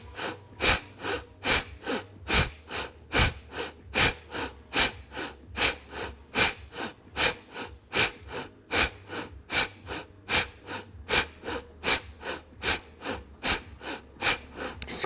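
Rapid Kundalini breath of fire: sharp, rhythmic belly-pumped exhalations puff through the nose in a steady, fast series of about two per second, close and fairly quiet, with no talking.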